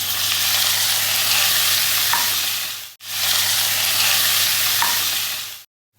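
Ghee sizzling and frying steadily in a pan while making green chicken soup, a loud continuous crackle with a brief break in the middle, no voices.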